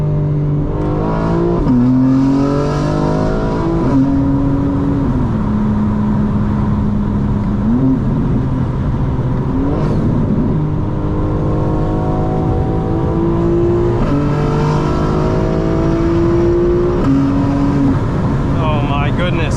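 A fully modified 2025 BMW M4 Competition xDrive drops a gear, its engine note climbing in stepped pulls with loud rising tones and gear changes, heard from inside the cabin with a driver's voice over it.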